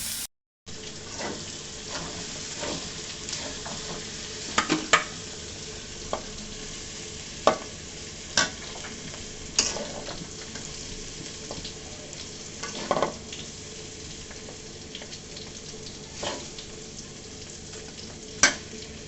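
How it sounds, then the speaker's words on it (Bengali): Bitter gourd frying with bottle gourd peel in a pan, a steady close sizzle broken by repeated sharp scrapes and clicks of a spatula stirring at irregular intervals, with no talking. "আমি লাউয়ের খোসা দিয়ে এভাবে করে করলাটা ভাজি করি"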